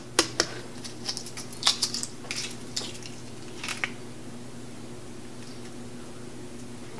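Shells being peeled off six boiled eggs: a series of small close crackles and clicks, bunched at first and then thinning out, over a faint steady hum.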